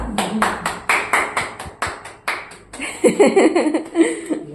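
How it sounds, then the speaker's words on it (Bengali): Hands clapping in a steady rhythm at a family birthday celebration right after the birthday song, roughly a dozen sharp claps up close, followed by brighter clattering and tapping sounds toward the end. "হাততালি দাও"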